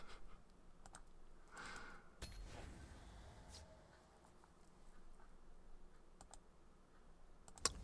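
Typing on a computer keyboard comes in short clustered bursts of light clicks, faint and close, with quiet gaps between them and no talking.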